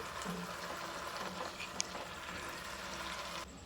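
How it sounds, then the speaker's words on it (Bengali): Ground spice paste frying in oil for a mushroom curry gives a steady, quiet sizzle and bubbling throughout, with no talking. "এর মধ্যে দিয়ে দিলাম বেটে রাখা মশলা এরপর এটাকে কষাতে থাকবো যতক্ষণ না মশলা থেকে খুব ভালোভাবে তেল ছেড়ে আসছে"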